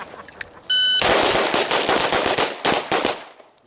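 Pistol gunfire on a shooting course: after a short beep, a dense run of loud, sharp shots cracks out in quick bursts for nearly three seconds, close and dominant.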